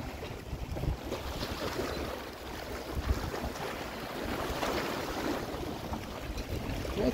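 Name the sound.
small waves lapping on a lake with boats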